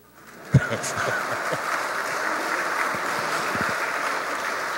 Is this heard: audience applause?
yes